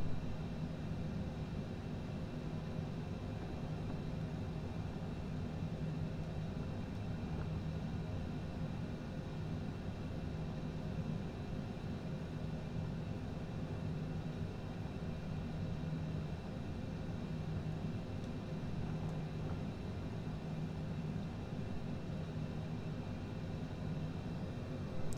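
A Cessna Citation CJ4 business jet taxiing in a flight simulator game, its engines holding a steady, even whine and rumble that stays level and continuous throughout, with no voices.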